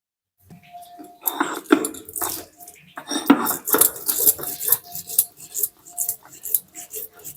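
Poppy seeds, melon seeds and black and white mustard are ground together into a paste, producing close, irregular scraping and knocking strokes that come in uneven bursts.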